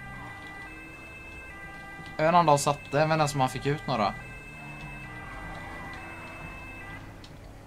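Police sirens in the GTA 5 video game wail in short, rapidly warbling bursts over a couple of seconds, loud above a faint background hum, while someone speaks Swedish.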